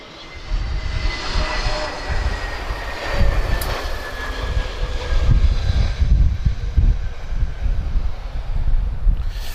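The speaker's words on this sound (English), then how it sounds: "Looks like an EasyJet to me. So uniform 26734 A321neo arriving from Lyon." An EasyJet Airbus A321neo jet arrives at Lisbon Airport, a broad, steady roar with wind buffeting on the microphone, swelling slightly as it passes at moderate distance.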